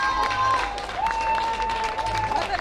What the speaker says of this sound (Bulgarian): Заслужени аплодисменти